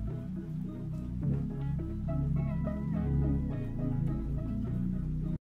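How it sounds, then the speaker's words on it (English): Layered synth chords in an FL Studio mix, with EQ added to tame the harsh high synths, play steadily under a deep bass line and sustained pads, with no voices. "So now the synth sounds like this."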